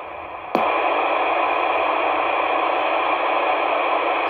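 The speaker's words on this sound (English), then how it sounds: "It's a bunch of static." Steady, loud hiss of static pours from a K-PO DX-5000 Plus 10 meter radio on an empty channel 40 once noise reduction is switched off, jumping up abruptly after a brief quieter moment and holding constant.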